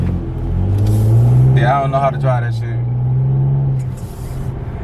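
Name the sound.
V6 car engine driving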